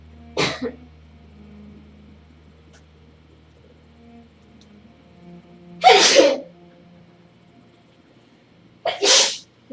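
Three sharp sneezes spaced a few seconds apart over quiet room tone, the second and third louder and nearer than the first, with no talking.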